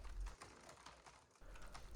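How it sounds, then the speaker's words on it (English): Rapid, irregular clicking of keys being typed on a keyboard, close by, with a brief pause partway through. "typing on a computer or a phone is an alternative to that"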